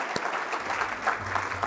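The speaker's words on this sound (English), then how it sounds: "Big round of applause for our host today, Sammy J." Applause from an audience at a schools awards event, a steady wash of clapping filling the space, with a low hum joining underneath partway through.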